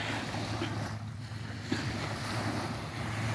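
Steady wind buffets the microphone over washing waves on the Elizabeth River at the western end of Norfolk, Virginia, a continuous close roar with soft surf beneath and no talking.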